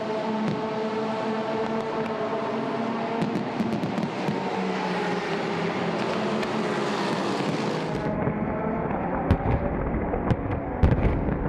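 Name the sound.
midnight fireworks display at the Dubai 24 hour race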